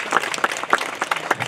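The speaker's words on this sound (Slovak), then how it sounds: "Zaslúžia si veľký potlesk." A crowd applauds at the ceremonial opening of a housing-estate day festival, steady clapping from many hands without talk.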